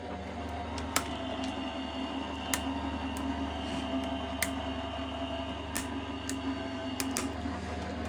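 A die-cutting machine feeds a stack of plastic shim, die and cutting plate through its rollers for a flower bouquet decagon card, giving a steady low mechanical hum with faint sporadic ticks and clicks, no voices.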